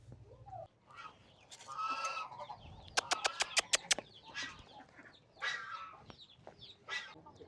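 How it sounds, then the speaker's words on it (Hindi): Hens and chicks cluck and chatter nearby, hungry for food, with quick bursts of calls and a short run of rapid sharp taps, fairly quiet overall. "अंदर चूज़ों की भी और मुर्गी की भी आवाज़ आ रही है, खाना लाओ"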